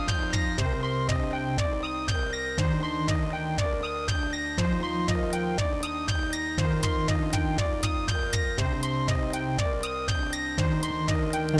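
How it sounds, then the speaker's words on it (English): A sawtooth synthesizer wave coded live in Strudel plays a steady, bright, buzzy sequence of repeating notes with a regular rhythm, loud and continuous throughout without any voices. "Just the sawtooth sounds like this"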